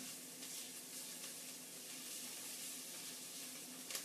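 Garlic sizzles steadily in a hot pan while being stirred, a soft, continuous frying hiss close by with no talking.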